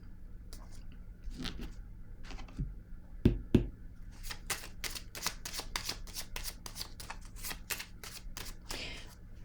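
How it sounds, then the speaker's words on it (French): Playing cards being shuffled and drawn from a deck, a run of quick riffling flicks and soft snaps that turns into a dense, rhythmic patter of card slaps, close and alone with no talk. "Je vais piger une autre carte"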